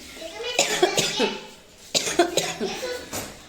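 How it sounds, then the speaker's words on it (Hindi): Several people cough again and again from thick smoke while eggs fry, with bursts of hacking in two clusters close by and some voices mixed in. "सब खांसने में लगे पड़े हैं।"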